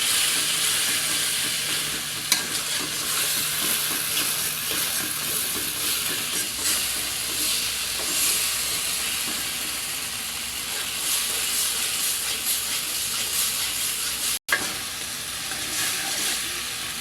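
A spice paste with ground poppy seed and mustard sizzles and spits in oil in a pan, a dense continuous frying hiss with faint stirring scrapes throughout.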